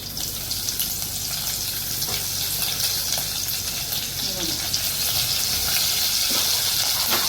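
Curry leaves and long slit green chillies hit hot oil in a pan for sabudana khichdi, with cumin in before them, giving a steady, loud sizzling hiss that runs throughout.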